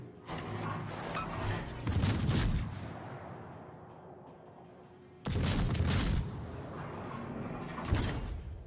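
A warship in the World of Warships naval game is struck by a torpedo, giving heavy booming blasts with a rumbling tail, one around two seconds in and another about three seconds later, loud against the steady sound of battle.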